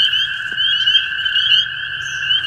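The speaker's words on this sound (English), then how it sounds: "Sit back and listen to the frog." Spring evening chorus of frogs, a dense, continuous high trilling drone with overlapping callers, steady and fairly loud with no talk.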